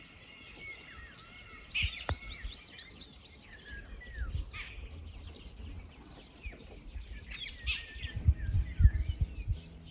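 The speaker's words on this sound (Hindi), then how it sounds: "यहाँ पे बहुत सारे पक्षियों की आवाज़ आ रही है" Many birds call outdoors at once, a busy layer of high chirps and short whistled notes running throughout at moderate distance, with low rumbling thumps and handling noise underneath.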